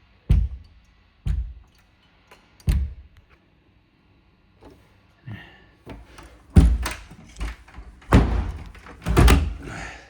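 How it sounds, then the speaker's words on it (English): An apartment door is closed repeatedly, giving a series of heavy thuds and slams, several single knocks spaced apart and then a louder cluster of bangs with rattling, close by and without talk. "Watch when I close this door."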